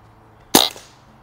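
A single sharp shot from a Barra 1100z .22 caliber PCP air rifle during backyard plinking: one crisp, loud crack with a brief fading tail, then quiet.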